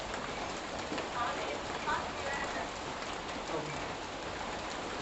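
Heavy rain pours down in a steady, dense hiss that fills the whole clip at an even, loud level, with scattered drop patter and no pauses.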